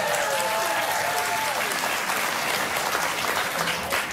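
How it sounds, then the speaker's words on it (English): Studio audience applause on a daytime talk show, a dense sustained wash of clapping at steady volume, with faint cheering and voices mixed in throughout. "Why are we applauding that?"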